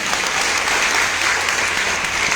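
Loud, dense clapping from a seminar audience, sustained evenly throughout without a break.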